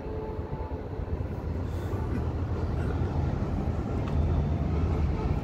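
Train passing near the Lotus Tower in Colombo, a loud continuous low rumble and rolling rattle of rail cars that holds steady and swells slightly toward the end, no talking.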